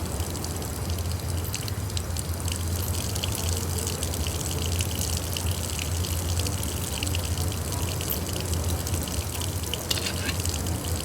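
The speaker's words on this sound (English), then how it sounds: "I filled the bottle with rum pouring from the barrel." Rum gushes in a steady, unbroken stream from a hole drilled in a barrel into a bottle in a video game, a fairly loud continuous pour lasting the whole stretch with no talking.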